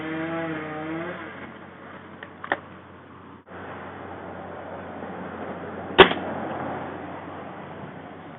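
A single sharp crack of an Umarex Octane air rifle firing a domed 14 grain pellet, loud and close, standing out over a steady background hum.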